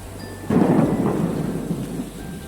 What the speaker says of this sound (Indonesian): Pada suatu hari ketika hujan dan disertai kilat yang menyambar,